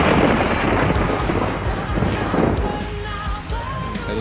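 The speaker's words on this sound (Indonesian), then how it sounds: "Wah, suara petirnya menggelegar." Loud, rolling thunder rumbles continuously over rain and wind noise during a rainy drive in the Bus Simulator Indonesia game, with no talk.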